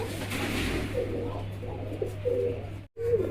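Lahori pigeons coo in a series of soft, low, throaty calls over a steady low hum, with a brief dropout near the end.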